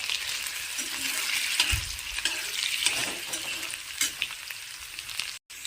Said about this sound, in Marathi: आता आपण हे तुपामध्ये बटाट्याचे आपण जे पीस केले आहेत ते पीस टाकून त्याला आपण हलवून घेऊयात मध्यम आचेवर